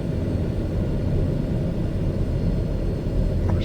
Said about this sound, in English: This plane takes a little practice for taxiing.